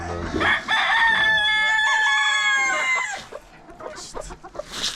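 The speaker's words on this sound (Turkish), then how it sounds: "Bu tavuk var." A rooster crows nearby, one long loud strained call, followed by scattered softer clucks and rustling.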